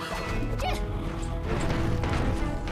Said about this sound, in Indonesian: Batu-batu itu akhirnya hancur dan menyebabkan hujan batu.